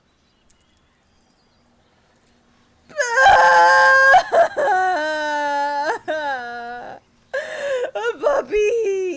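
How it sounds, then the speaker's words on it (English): A sad puppy whimpers and whines in Baldur's Gate 3, loud drawn-out wails with quivering pitch in several bursts after a few faint clicks, close and alone. "Poor little puppy! Little puppy! The puppy's sad!"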